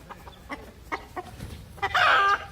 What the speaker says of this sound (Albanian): Gjel! Qa gjeli?